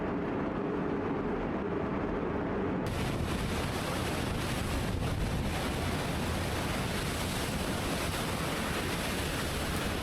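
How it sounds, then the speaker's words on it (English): Roaring Storm Goretti wind at Longships Lighthouse blows steadily and loudly throughout, a dense rushing noise that surges stronger after the first few seconds, with a faint rumble of surf beneath. "most of it is just the sound of the wind"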